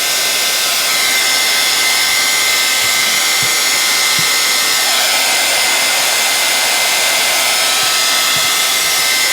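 A hair dryer blows heat over a mixed media artwork, a loud, steady whirring roar running unbroken and close for the whole stretch with no talking.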